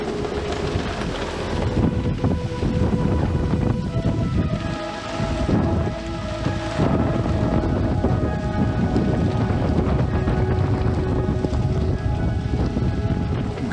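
A heavy thunderstorm on the Volga near Cheboksary roars with continuous rain and gusting wind buffeting the microphone, while deep thunder rumbles under it, heard from shelter in a small hut.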